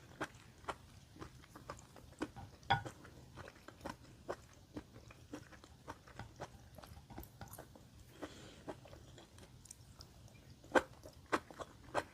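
Someone bites and chews mushrooms, giving soft, close, irregular crunching and chewing clicks spaced through a quiet stretch with no talking.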